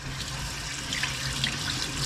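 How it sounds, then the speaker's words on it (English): Tap water runs steadily over frozen northern pike fillets being rinsed in a sink, a continuous close splashing rush with no voices. "and so I'm going to rinse them off a little bit"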